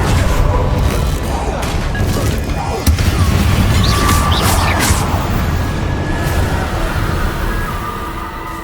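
A fiery Incendio spell cast in Hogwarts Legacy bursts with a loud whooshing roar and crackling impacts, sustained for several seconds before slowly tapering off amid other game effects.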